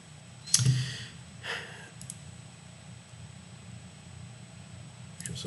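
A single sharp key press on a computer keyboard, the Delete key, sounds once near the start, followed by a few fainter clicks against a quiet room hum while chemical structures are edited in ChemSketch software.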